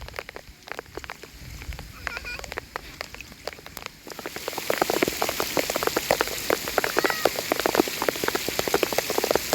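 Rain comes down at Phu Pha Ta No, first a light scattered drip, then a sudden heavier, close drumming of drops on a surface that holds steady to the end, with no voices.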